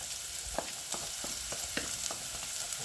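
Onions brown in a frying pan for a cottage pie with a soft continuous sizzle, and a spoon stirs them in evenly spaced scraping strokes about every quarter second. No voices are heard.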